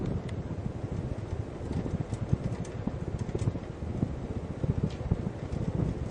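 A direct-drive Hunter Sojourn ceiling fan runs with a constant low whooshing hum and a fast, uneven rattling that continues throughout at a moderate level.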